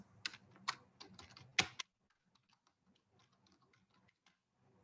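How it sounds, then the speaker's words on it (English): Typing on a computer keyboard while setting up an online class, a few loud close clacks in the first two seconds followed by faint, sparse key taps. "I just want to type here."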